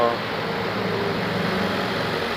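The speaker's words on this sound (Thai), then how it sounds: "เราจะทำการสตาร์ทเครื่องยนต์แล้วก็เปิดแอร์นะครับ" A Mazda CX-5 engine idling just after start-up, with the air conditioning switched on: a steady, even, close hum that carries on without change.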